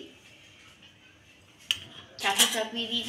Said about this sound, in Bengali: তো এখানে আমি চাটু চাপিয়ে দিয়েছি